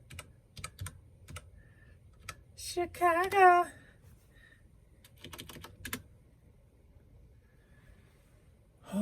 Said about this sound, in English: See how important I sound clicking these keys?